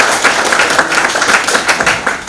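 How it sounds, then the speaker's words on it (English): An audience at a panel discussion gives a round of applause, a loud, dense, continuous clapping that holds steady throughout with no talking. "let us have a big round of applause for Dr."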